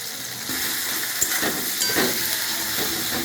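Coriander and chili powder sauté in a pan as a dense, even sizzle, with a few sharp scrapes and clinks from stirring, close and loud, no talking.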